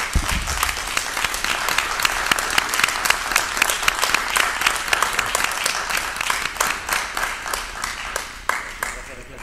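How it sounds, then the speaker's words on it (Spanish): Loud, dense applause from a conference audience fills the space continuously, with crisp individual claps standing out near the end. "un aplauso, por favor."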